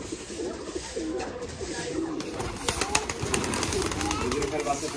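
Giribaz pigeons in a home pigeon loft coo in soft, throaty, repeated bursts close by, with people talking among the birds.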